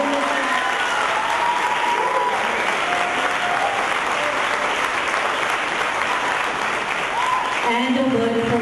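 Applause from a press conference audience in Houston greeting a promotions company CEO, steady dense clapping throughout at even loudness, with a few faint voices and tones over it near the end.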